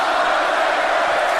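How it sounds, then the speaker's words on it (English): A large wrestling arena crowd roars in a dense, continuous wash of voices, loud and sustained with no pauses, a mass of mixed shouting that could be cheering or booing. "Just listen to a crowd that is cheering for The Undertaker suddenly take a turn when he brings up Crown"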